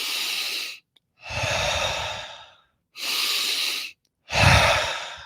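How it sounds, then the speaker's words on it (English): Four slow, deep breaths, drawn in and let out alone with short silent pauses between, airy and close, the later exhalations fuller and lower. "Take a deep breath with me. Do some conscious breathing."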